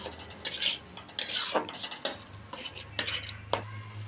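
A metal spoon scrapes and clatters against a pot as spice masala for chicken biryani is stirred and fried over a medium-low flame, with several sharp, close strokes above a faint, low sizzle.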